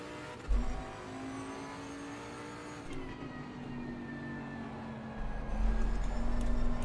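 A Bentley race car in a sim racing game spins donuts on grass at Snetterton, a steady engine drone with rising revs and surges of throttle, close and continuous, with no talking.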